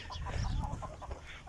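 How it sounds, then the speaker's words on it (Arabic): Bantam chickens cluck softly in short, repeated bursts close by, over a low rumbling background with no talking. "وهذا الدجاج القزم"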